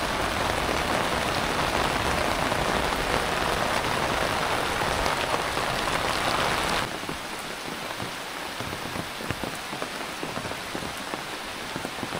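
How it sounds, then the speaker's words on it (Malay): Light rain falls steadily at a campsite at Labong, a dense hiss of drops on surfaces that drops suddenly to a softer patter partway through. "Ni masih lagi gerimis-gerimis mengundang. Boleh tahan juga lebat."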